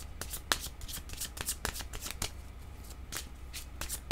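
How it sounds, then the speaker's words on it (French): Tarot cards being handled and drawn from a deck during a card reading, giving a run of crisp shuffling flicks and soft riffles with sharp snaps at irregular intervals, close and fairly quiet with no talking. "Je vais demander une autre carte ici"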